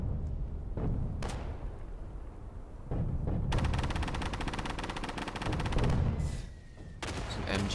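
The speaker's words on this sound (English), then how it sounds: "Some MG right here." Machine gun fire in a WWII tactical shooter video game, with a sustained rapid burst at close range of about three seconds, then further bursts over a dense, rumbling battlefield din.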